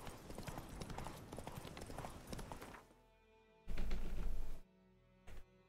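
Geralt's horse Roach galloping in the video game The Witcher 3: rapid, steady hoofbeats for about three seconds, followed by quieter game ambience and a couple of short, louder bursts.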